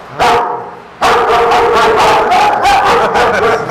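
A police dog in a kennel at a police station barks loudly and repeatedly, close by, with a short pause before a long run of barks.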